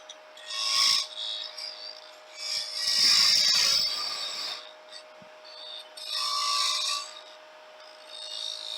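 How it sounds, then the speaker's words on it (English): A spindle gouge cuts a spherical bottom on a wood-lathe workpiece held by a live center, giving rasping, rubbing bursts in three main passes separated by quieter stretches, with a steady motor hum underneath. "Back to the spindle gouge."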